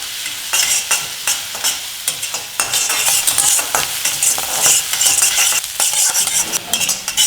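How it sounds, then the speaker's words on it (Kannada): Chopped onions fry in hot oil for street-style egg rice, a steady crackling sizzle broken by repeated scraping stirs of a spatula, close and fairly loud with no talking. "ಎಣ್ಣೆ ಕಾದ್ಮೇಲೆ ಕಟ್ ಮಾಡಿರೋ ಈರುಳ್ಳಿ ಹಾಕೊಳ್ಳೋಣ. ಈರುಳ್ಳಿ ಸ್ವಲ್ಪ ಟ್ರಾನ್ಸ್ಪರೆಂಟ್ ಆಗೋವರೆಗೂ ಹುರ್ಕೊಳ್ಳೋಣ."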